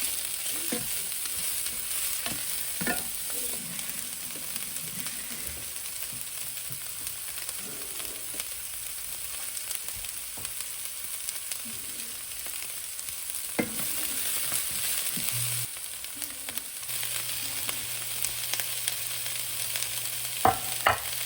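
Bok choy stems fry over medium heat and give off a steady hiss and sizzle, broken by a few stirring clinks. No one speaks.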